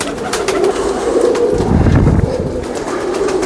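A Sialkoti pigeon coos close up, a low throaty rolling coo swelling in the middle against soft background noise, with no talking.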